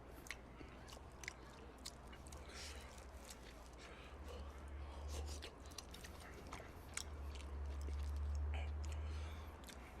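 Crunchy bites and chewing of a crispy croquette during a Korean mukbang meal with yakisoba and curry rice, a steady run of close, crisp crackles with a low murmur beneath.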